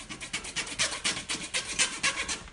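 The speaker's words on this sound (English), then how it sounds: "give this sort of the sort of 2/3 of the flower a really good rub" Petal distressing tool vigorously rubbing flower-forming foam petals, a close rhythmic rasping scrub of about a dozen quick strokes, alone without talk.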